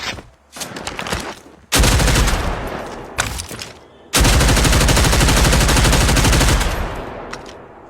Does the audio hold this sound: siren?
no